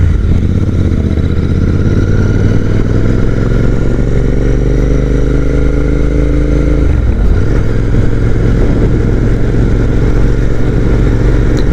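A Royal Enfield Interceptor 650 Mark 2 motorcycle engine drones loud and steady while riding on an open road, with a brief gear change and rising pitch midway and constant wind rush.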